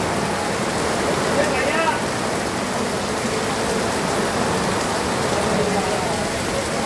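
Stormy evening rain in a town in Ahmednagar, India, a steady broadband hiss of rainfall that stays even and fairly loud throughout, with faint murmuring in the background.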